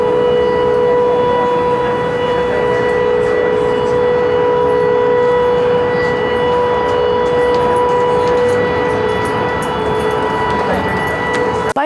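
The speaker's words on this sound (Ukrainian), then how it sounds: "Цього року жителів відлякують постійні звуки сирен." An air raid siren sounds continuously, a loud sustained wail holding a steady tone for the whole stretch with no pauses.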